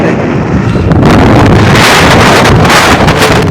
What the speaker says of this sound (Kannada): ಗಾಳಿ ಸಿಕ್ಕಾಪಟ್ಟೆ ಇದೆ